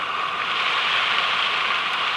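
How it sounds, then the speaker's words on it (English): Rain on a Vango Helvelyn 200 tent at a coastal solo wild camp in Greatstone, Kent. A steady, dense patter sounds close and loud, with no talking over it. "The rain's picked up a little bit now,"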